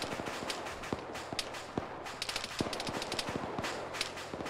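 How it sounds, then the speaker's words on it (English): Rapid bursts of video game gunfire in a military shooter crackle in quick, uneven volleys of sharp cracks, moderately distant and alone with no talk. "there's something shooting us from the northwest up the mine road"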